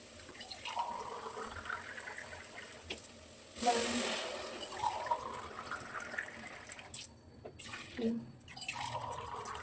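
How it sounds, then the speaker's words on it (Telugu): Water poured from a cup into a pot for egg biryani rice makes a short gushing splash midway, with quieter trickling around it and a voice faintly present in the background. "ఈ కప్పుతో ఒక 3 గ్లాసెస్ అయితే వాటర్ అయితే పోసుకుంటాను."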